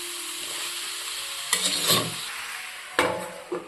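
Marinated prawns fry in a pan for a ghee roast, a bright steady sizzle punctuated by two loud scraping stirs of a spatula, nearby and without speech.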